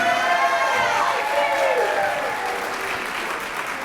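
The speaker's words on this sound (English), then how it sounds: "a round of applause for all of these students who helped out tonight" A high school orchestra concert audience applauds steadily, dense clapping with a few voices calling out, gradually easing slightly toward the end.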